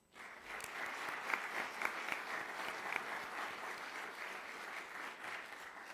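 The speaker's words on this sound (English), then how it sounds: "Let's give them a round of applause" An audience at a university startup demo day gives a round of applause, a sustained even clapping that starts abruptly and holds steady at a moderate distance.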